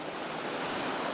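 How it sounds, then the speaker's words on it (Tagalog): Gentle ocean surf washes steadily onto a clean sandy beach, a continuous soft roar of breaking waves at close range with light wind noise and no voices. "Tama-tama lang yung hampas ng alon dito sa Dalampasigan."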